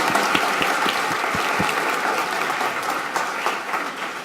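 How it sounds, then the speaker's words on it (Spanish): Conference audience applause after a talk at an agile testing event in Medellín, Colombia, with dense, fairly loud clapping and a few sharper individual claps standing out, fading slightly toward the end. "Agradecemos entonces a Ashish, le damos un fuerte aplauso por su intervención."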